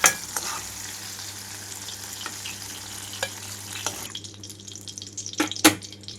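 Brinjal pieces crackle and sizzle steadily in hot oil, with occasional sharp pops and utensil clinks; the frying quiets abruptly toward the end before a final clatter.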